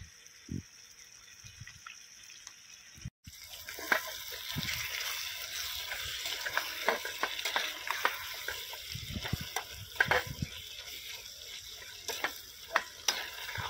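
Chicken liver fries with ginger-garlic paste in an outdoor farm kitchen. A soft hiss turns into a louder sizzle after a short pause, broken by repeated scraping stirs and spattering pops. No one speaks.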